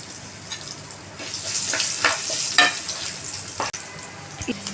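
Four crushed garlic cloves dropped into hot tempering oil with turmeric and asafoetida while making drumstick leaf chutney. The sizzle swells loudly, then crackles and hisses unevenly with stirring clinks and a brief sharp knock near the end.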